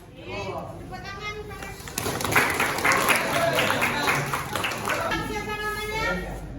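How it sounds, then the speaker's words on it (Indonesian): A classroom group breaks into loud sustained clapping that swells midway and continues, with children's voices and chatter mixed through the applause. "Tepuk tangan."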